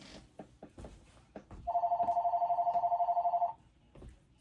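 A landline telephone rings once in a long electronic trill of rapid warbling pulses lasting almost two seconds, loud and close, set between quiet rustling and handling noises in a room.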